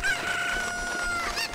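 A cucco chicken in Zelda: Ocarina of Time Master Quest gives a loud, close game clucking cry, one short drawn-out call with a squawk at the end and no voices.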